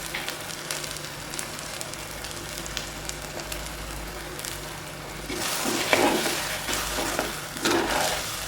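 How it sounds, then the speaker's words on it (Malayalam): Ginger theeyal masala paste is stirred and sizzles in a hot pan, with soft scraping and crackling frying sounds that grow louder and busier toward the end, with no voices. "അരപ്പ് അടുത്ത് വെച്ച് നല്ലതുപോലെ മിക്സ് ചെയ്യാം"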